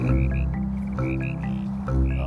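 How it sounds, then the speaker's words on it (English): A spring chorus of male frogs calling for females, continuous overlapping croaks with repeated higher trills that rise and fade every half second or so, close and loud. "this chorus of frogs, the male frogs calling for the females, and it drowns everything else out"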